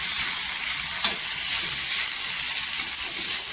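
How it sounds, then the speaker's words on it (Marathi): Potato chutney with salt and chopped coriander is stirred and sautéed on a hot tava, giving a steady, close sizzling hiss with soft scraping throughout and no talking. "आणि इथे परतून घ्यायचं."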